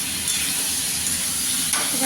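Ghee poured into a hot pan during home cooking of a Bengali recipe, sizzling and frying steadily with a soft hiss throughout, close and even in level, with faint stirring underneath.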